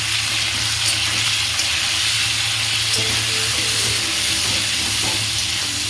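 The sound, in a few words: diced onions frying in oil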